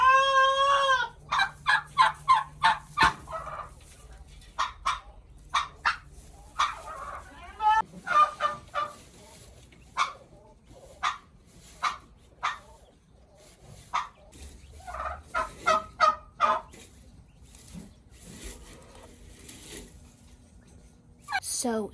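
Broody turkeys gobbling among other fowl outdoors, a long series of sharp, loud calls in irregular bursts throughout, with a few voices heard between them.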